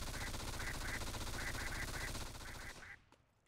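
Sustained automatic gunfire in a Dota 2 Arcade game, a fast continuous rattle of shots with pulsing tones that stops abruptly near the end.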